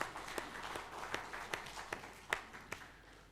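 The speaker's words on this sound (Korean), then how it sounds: "우리 박수로 하나님께 영광 돌리겠습니다." Scattered clapping from a church congregation during a Sunday worship service, a sparse, uneven patter of hands that stays fairly faint and never builds into full applause.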